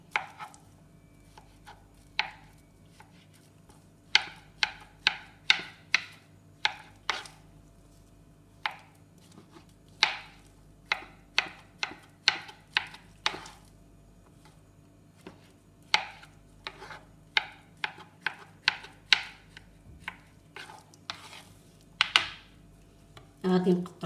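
A knife cuts fruit, including apricots, into cubes on a cutting board, with dozens of crisp, rapid chops in uneven bursts close up and quiet pauses between runs.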